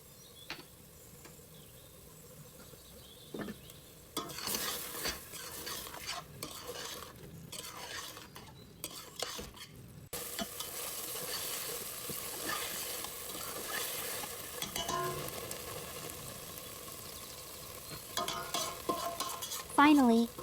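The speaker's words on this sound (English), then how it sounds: "Now we'll cook this until the oil separates, and you can see that the masala is perfectly cooked." Masala liver fries in oil in a pan with a continuous close sizzle, broken by repeated scraping strokes of a spoon stirring it, with no talking.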